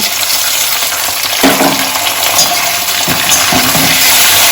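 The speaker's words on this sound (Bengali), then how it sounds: "এই টমেটো কুচিটা দিয়ে দিচ্ছি" Chopped tomatoes go into a pan of frying flat beans with bhola fish, giving a loud close sizzle with a few stirring scrapes and clinks that briefly swell.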